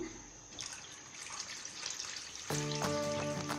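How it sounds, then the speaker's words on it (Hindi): Roughly two litres of water pour into a pot of beef nihari on the stove, a steady splashing stream that deepens and grows louder toward the end as the pot fills, with no talking. "2 लीटर के करीब इसमें मैं पानी शामिल करूँगी"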